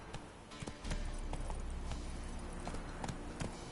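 Roach, a horse in The Witcher video game, gallops with quick, rhythmic hoof clip-clops at close range over a soft ambient backdrop.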